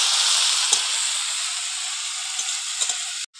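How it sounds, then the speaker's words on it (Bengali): Malabar spinach sautés in a hot pan with a steady, close sizzling hiss and a few light stirring clicks, and the sound cuts off abruptly near the end. "দিয়ে ভালো করে পুঁই শাকটাকে একটু কষিয়ে নেব।"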